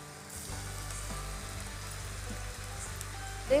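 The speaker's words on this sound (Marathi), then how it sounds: "आणि आता हे चकली याच्यावरती घेतली, आता हे आपण तेलामध्ये सोडू." Chakli dough made from bhajani is deep-frying in hot oil over a medium flame, producing a steady, moderately loud bubbling sizzle with a brief louder burst near the end. No talk is heard.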